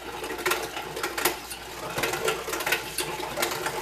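An old hand-cranked applesauce press grinds and rattles with continuous squeaky, clicking mechanical noise and irregular sharper knocks, close and steady throughout with no talk.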